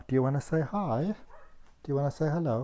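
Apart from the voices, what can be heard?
dog barking outside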